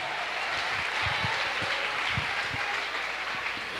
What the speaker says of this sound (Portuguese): Aleluia, aplauda Jesus de Nazaré.